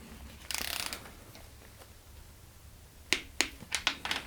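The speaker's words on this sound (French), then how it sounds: "Donc maintenant, on va serrer ça au couple" A torque wrench tightens bolts on a Peugeot 205 GTI engine: a scuffing handle movement early on, then a quiet stretch, then several sharp close ratchet clicks in quick succession near the end.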